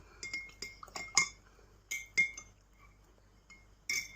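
A spoon clinks repeatedly against a glass while coffee with milk is stirred, bright quick taps in short bursts with pauses, close but fairly quiet.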